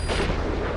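Gunfire in the video game Metal Gear Solid V: The Phantom Pain on PS4, a dense burst of shots that fills the whole brief moment loudly with no voices over it.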